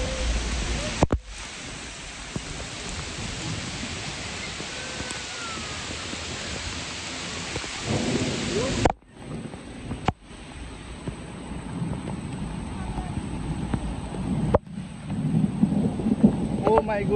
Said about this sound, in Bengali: ওকে, বৃষ্টি আসতেছে